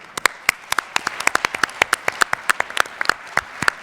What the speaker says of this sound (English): So this applause is for Jacques and colleagues who suggested to take the second stent.